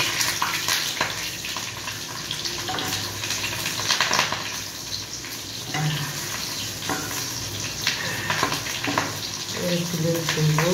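Egg pakoras frying in hot oil, a steady bubbling sizzle with occasional stirring and scraping in the pan, a voice talking faintly in the background.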